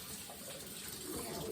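Water runs steadily from a kitchen tap while hands are rinsed during steak preparation, a continuous close splashing hiss with no voices.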